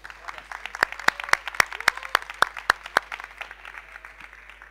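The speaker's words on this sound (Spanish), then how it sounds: "Así que un aplauso, por favor." A conference audience claps in a scattered rhythm with sharp individual claps standing out, building briefly then thinning toward the end.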